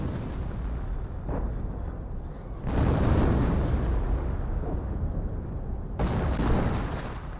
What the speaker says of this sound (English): Now got the creeping barrage raiding on in.